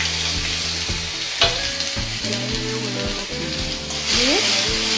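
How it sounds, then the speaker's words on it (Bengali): Chopped tomatoes sizzle and fry in hot oil in a kadai, after fish was fried in it. A steady, bright crackle runs throughout, with spatula scrapes and stirring knocks and a louder sputter near the end. "ওই কড়াতেই তেলেতে আমি এই যে কুচিয়ে রাখা টমেটোগুলো দিয়ে দিলাম"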